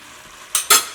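A spoonful of ghee dropped into hot sugar syrup for a Diwali sweet gives two quick bursts of close sizzling hiss in succession after a quiet moment.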